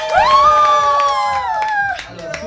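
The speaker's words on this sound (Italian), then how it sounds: "Facciamo intanto un applauso alla sposa." Wedding guests at a restaurant in Lonato clap and cheer for the bride, a steady burst of applause with a sustained sung or shouted voice ringing over it, fading slightly toward the end.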